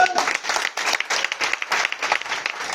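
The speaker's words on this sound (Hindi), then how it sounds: "तालियां इनके लिए।" An audience applauds steadily, a dense, continuous patter of many hands clapping that carries on without a break.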